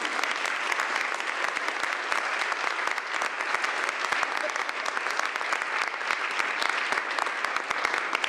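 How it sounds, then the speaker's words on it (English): A room at a county board meeting breaks into steady, dense applause for a civilian-of-the-year award winner, the clapping sustained and even throughout without a break. "Mind giving Deborah a round of applause?"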